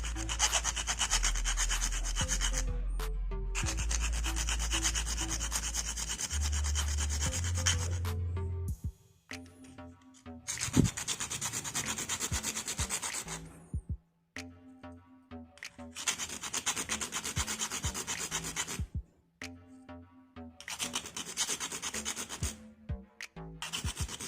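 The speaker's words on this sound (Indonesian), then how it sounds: "Ini saya kikir saja dulu terlebih dahulu ujung dari baterai ini." Repeated rasping strokes of a file scrape the metal end of an 18650 lithium-ion battery, coming in long steady passes broken by short pauses, close and clear with no talking.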